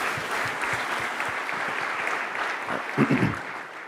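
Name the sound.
audience applause at startup pitch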